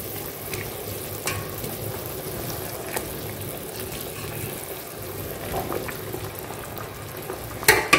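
A village fish curry boils in a cooking pot, a low, steady bubbling and simmering murmur with a few faint knocks and a sharper clatter near the end, no voices.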